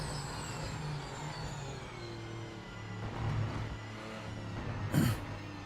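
Race car engine in the Project Motor Racing video game, a steady droning engine note with gear shifts and a brief louder burst near the end, heard alone.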